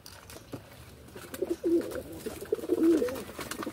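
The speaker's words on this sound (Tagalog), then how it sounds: "Yun sila mga kalapatids." Low, soft cooing calls murmur twice at moderate distance, with faint rustling and shuffling noise around them.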